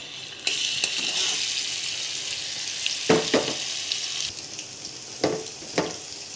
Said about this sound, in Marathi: त्यामध्ये हिरवी मिरची टाकू